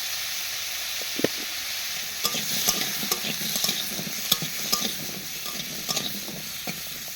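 Potatoes frying in a pan with a little turmeric, a constant hissing sizzle with scattered stirring scrapes and taps close by, no talk.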